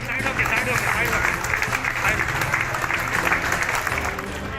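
A crowd on a street claps and applauds to honour soldiers, a dense, continuous patter of hands with voices and bustle mixed in, under steady talk.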